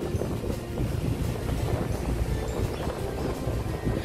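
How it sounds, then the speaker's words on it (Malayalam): Boats on the water in the Dubai Marina boat safari area, heard as a dense, steady rush of water, engine hum and wind buffeting the microphone, continuous and fairly loud with no talking. "ഇതാണ് ദുബൈയുടെ മറീന ബോട്ട് സഫാരിയുടെ സ്ഥലം ഉണ്ടല്ലേ"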